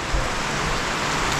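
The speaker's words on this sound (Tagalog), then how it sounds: "Ay, ang lakas ng ulan mga maninay." Heavy rain pouring down steadily, a dense, even hiss of drops drumming on surfaces without a break, fairly soft and unaccompanied by voices.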